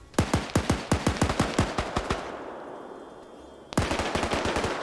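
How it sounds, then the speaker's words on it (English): Suppressive automatic gunfire in a PvP military shooter match: rapid, loud, evenly spaced shots rattle off in a long burst, die away into a brief lull, then resume just as fast. "Still seeing some suppressive fire."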